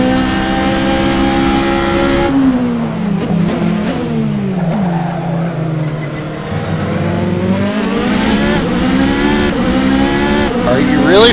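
A Toyota TS040 LMP1 hybrid race car in a racing simulator at Spa, its engine loud and close, rising and falling through gear shifts with some tire squeal, while someone talks over it.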